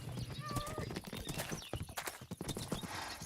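A Minecraft horse gives a neigh and clopping hoof steps, mixed with other busy game sounds and a voice in the background.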